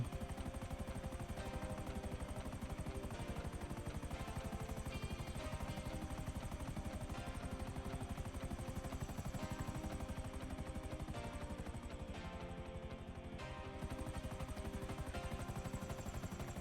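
Helicopter flying in a GTA V zombie mod game, a continuous rapid rotor chop with steady turbine whine, loud and close throughout with no talk.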